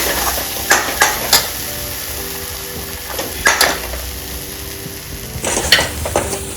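Masala mixture frying in oil in a pan over a gas flame, a steady close sizzle with scattered scraping stirs and clinks of a spoon against the pan, no talking.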